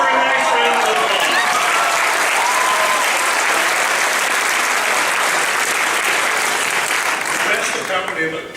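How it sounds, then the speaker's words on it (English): A large audience at a Class of 1963 gathering gives Mrs. McDaniel a round of applause: dense, sustained, loud clapping throughout that thins slightly at the very end. "Let's give her a nice round of applause."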